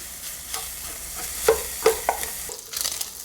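Close sizzling of sausage in a saucepan with scraping stirs and a few sharp clinks of a utensil against the pan, no talking.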